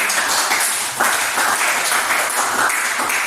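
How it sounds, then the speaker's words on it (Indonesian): Classroom audience applauding a student named Beril after a lesson demonstration on making ice candy without a refrigerator, a steady dense burst of clapping filling the room for a few seconds. "kita tepuk tangan dulu untuk Beril"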